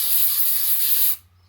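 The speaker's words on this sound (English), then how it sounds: "So I'm just going to use a bit of silicone spray" An aerosol can of silicone spray sprays in one steady hiss for about a second, then cuts off sharply, leaving a faint low hum.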